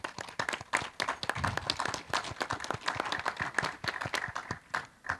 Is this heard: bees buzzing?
no